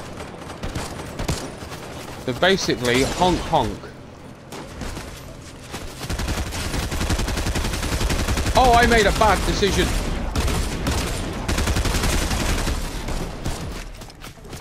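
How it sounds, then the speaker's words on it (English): Bursts of gunfire from Fortnite, with two dense volleys of rapid shots and scattered single cracks, heard close and loud beneath continuous talking. "Gunshots."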